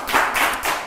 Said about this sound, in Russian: Ну что, аплодисменты, друзья.